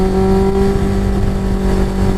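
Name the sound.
Yamaha 600 Fazer motorcycle accelerating to overtake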